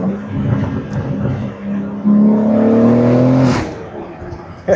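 A BMW G82 M4 fitted with a crossover pipe and aftermarket mid-pipe revs hard, its exhaust rising in a loud, close, rasping climb that holds for a couple of seconds before dropping back to a rumbling idle.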